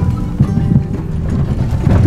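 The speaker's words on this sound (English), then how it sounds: "There's some donkeys." Donkeys walk along a path near the Urubamba area of Peru, their hooves thudding in a dull, irregular clip-clop close by for a couple of seconds.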